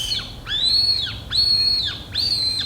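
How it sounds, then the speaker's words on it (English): A small Chinese bird whistle blown three times at a children's concert, each a warbling, bird-like trill lasting about half a second, loud and close with brief pauses between. "Now this little teeny whistle is a Chinese bird whistle."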